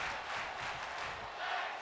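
Wrestling arena crowd roaring and shouting in a steady, dense wash of noise, continuous and fairly loud throughout with no single voice standing out.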